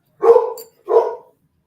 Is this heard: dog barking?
yes